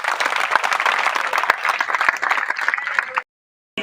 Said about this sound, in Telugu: చప్పట్లు కొట్టాలందరూ